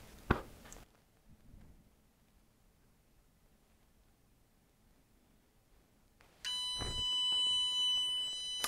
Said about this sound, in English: So this buzzer control is also triggered by the smoke alarm.